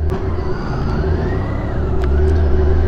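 A BMW K1600B six-cylinder motorcycle in Midnight edition accelerates, its engine note rising steadily and loud under strong wind rush, with no talking.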